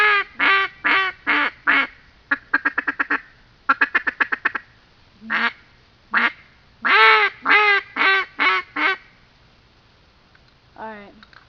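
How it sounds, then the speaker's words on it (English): A double single reed duck call is blown in a series of loud, close quacking bursts, some slow and drawn out, others in quick rapid-fire chatter, ending with a faint trailing call. "It was just a double single reed duck call."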